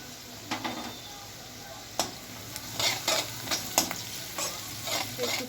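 Chopped onion, grated ginger and chopped chili fry in a pan for a semolina tiffin dish, with a steady close sizzle broken by repeated scraping strokes of a spatula against the pan.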